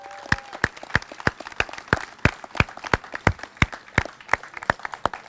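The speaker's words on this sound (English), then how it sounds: "Please give Governor Carney a round of applause." Applause for Governor Carney at the dedication of a new riverfront bridge, a few sparse, distinct claps in an irregular rhythm, close by and clearly separated, with little crowd noise.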